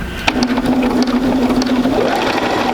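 A sewing machine stitches quilt pieces with a quarter-inch foot, running a loud, close, continuous motor hum and rapid needle chatter for a few seconds without pause.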